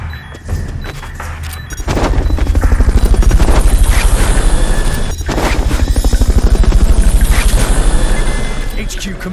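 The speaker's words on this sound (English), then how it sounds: "Fulton recovery helicopter is complete." Helicopter from Metal Gear Solid: Peace Walker during a Fulton recovery, with loud rapid rotor chopping that swells, dips briefly, then returns, mixed with mechanical whine and thuds while voices speak over it.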